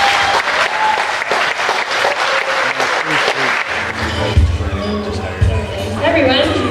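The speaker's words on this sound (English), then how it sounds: "Please give them a very big round of applause." Loud audience applause with rapid clapping fills a concert hall, fading as low music and crowd noise come in toward the end.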